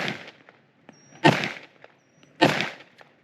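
Two sharp pistol shots from an H&K 45 Compact ring out about a second apart outdoors, each a loud crack with a short echoing tail, with quiet between.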